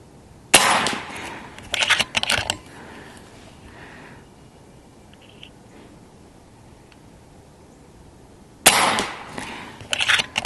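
FX Dynamic Express .30 airgun fired at 50 yards outdoors: a sharp shot at the start and another near the end, each followed by quick metallic clatter, with quiet ambience between.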